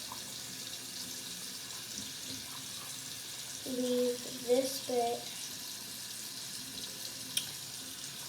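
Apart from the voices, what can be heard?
water running from a tap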